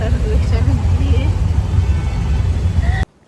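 An auto rickshaw's engine drones low and close during a ride, with road rumble beneath it, and voices speak over it. The sound cuts off abruptly near the end.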